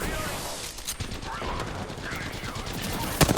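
Rapid bursts of gunfire from the battle royale video game Apex Legends, dense and continuous throughout, with a sharper, louder shot near the end.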